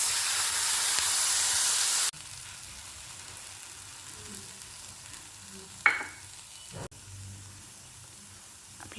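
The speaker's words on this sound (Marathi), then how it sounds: "आपली डाळ थोडीशी फ्राय होऊन झालेली आहे" Dal frying in a pan with browned onion for a Maharashtrian nalge dish: a loud broadband sizzle for two seconds drops to a softer, steady frying hiss with a few clinks and stirring scrapes.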